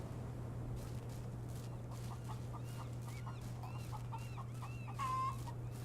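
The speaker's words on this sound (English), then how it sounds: "I can hear chickens." Chickens cluck in the NewDawn video game, a run of short, rhythmic bursts of clucking that sound fairly distant and faint over a constant low hum, ending in a slightly louder squawk.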